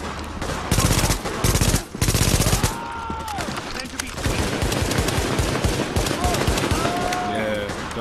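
Automatic gunfire from The Division video game, rapid bursts of shots at a refugee camp, loud and close, then heavier sustained firing with electronic tones and game voices mixed in.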